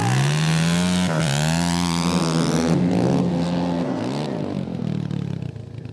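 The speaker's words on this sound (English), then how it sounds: "Maybe we get a drag race between this thing and the Snowmobile." A 450cc pit bike and a snowmobile roar side by side in a drag race, engines loud and close, pitch climbing through repeated upshifts before easing off near the end.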